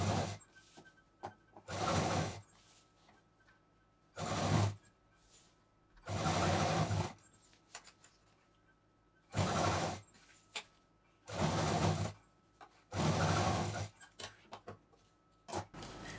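A sewing machine stitches piping onto a homemade tote bag in about eight short bursts of whirring, each lasting one to two seconds, with quiet pauses between them, close and moderately loud.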